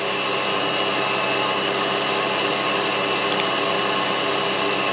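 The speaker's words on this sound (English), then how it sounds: "I know it's noisy and I do apologise, but while that's whisking up" An electric mixer whisks egg whites into meringue for a lemon meringue pie, a loud, steady high-pitched whirring drone that holds constant throughout with no talk over it.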